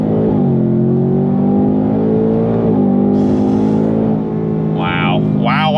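A 2025 Ford Mustang Dark Horse V8 exhaust under throttle, with its quick-shifting transmission: a loud, close, continuous engine drone whose pitch climbs slightly, with a brief step around midway.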